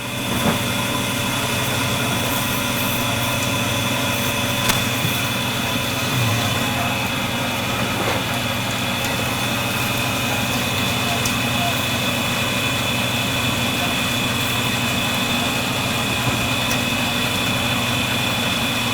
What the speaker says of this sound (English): This saw is still cranking along.